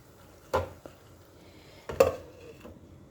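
A cooking pot holding simmering ash gourd gets covered with its lid, giving two sharp metallic clanks about a second and a half apart, with a small tap between them, close by in a quiet kitchen.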